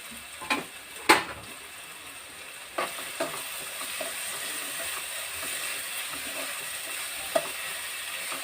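Green chillies and onions frying in a pan under a steady low sizzle, with a few sharp scrapes and clicks from stirring, close and fairly quiet.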